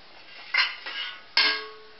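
A lid set down on a cooking pot of simmering moong dal bundles with yam, giving two or three brief metallic clanks and clinks close by, the last one ringing slightly longer, with no talk.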